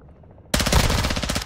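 In the Call of Duty DMZ video game, a loud burst of automatic gunfire erupts suddenly out of near silence and hammers on rapidly until the end.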